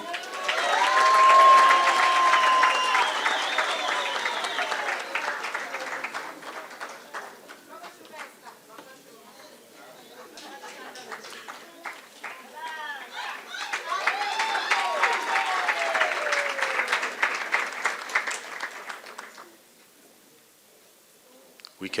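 Graduation-day audience in Gauteng claps in two swells, loud at first, easing, then building again with cheers before dying away near the end; scattered voices mix into the crowd noise.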